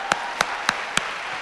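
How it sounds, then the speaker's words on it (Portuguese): Four sharp, evenly spaced hand claps ring out close and clear over quiet room tone, more like one person clapping slowly than a full audience. "Aplaude sem inveja,"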